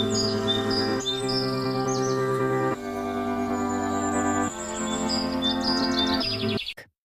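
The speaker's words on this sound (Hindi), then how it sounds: "जंगल में घुसते ही पक्षियों की चहचहाहट और हरियाली ने उनका स्वागत किया।" Birds chirp and tweet in a forest, quick high calls repeating over a sustained musical backing, fairly loud and continuous before everything fades out at the end.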